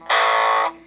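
A short burst of crunchy, distorted electric guitar through a Sola Sound Tonebender fuzz pedal, one sustained chord ringing loudly for about half a second before cutting off into a faint hum.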